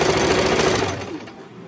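Rapid mechanical rattle of a sewing machine top-stitching a pair of shorts, a loud, steady burst close by that slows and fades near the end.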